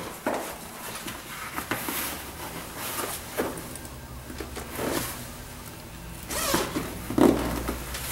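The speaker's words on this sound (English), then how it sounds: "And then the inner zipper." The inner zipper on a massage chair's backrest pad is pulled open in several separate, close rasping strokes, with short gaps and light handling noise between them.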